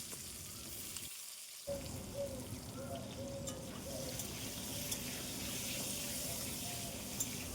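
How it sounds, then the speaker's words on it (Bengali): Potatoes fry in the same oil just used for fish, producing a steady moderate sizzle that drops out briefly near the start and then resumes, continuing evenly with faint stirring. "এবারে ওই তেলেই আলুগুলোকে আমি ভেজে নেব।"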